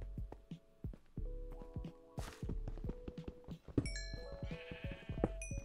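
Several sheep bleats from a Minecraft game, with short wavering cries scattered over a steady background of game music and ambient tones, moderately loud and with no talking.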